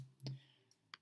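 A computer mouse clicks on an icon, with a few short, quiet, sharp clicks spaced apart in an otherwise near-silent room.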